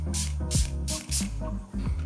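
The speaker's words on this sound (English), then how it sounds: "we're gonna spray some creme de cacao on the outside of a Nick and Nora" Creme de cacao misted from a spray bottle onto the outside of a Nick and Nora glass gives four quick hissing bursts in an even rhythm, close and crisp over a low background hum.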